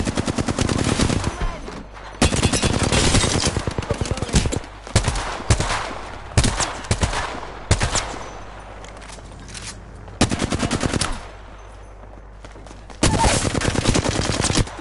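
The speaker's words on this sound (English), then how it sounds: "Getting shot at." Gunfire in the video game Apex Legends: loud, close automatic bursts in rapid strings, broken by short pauses and a longer lull, with no talking.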